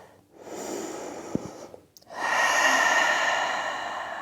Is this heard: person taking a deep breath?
yes